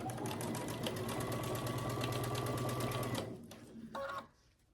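A sewing machine stitches quilt pieces in a fast, steady mechanical rattle for about three seconds, then stops, followed by a few faint clicks and a short whir as it winds down.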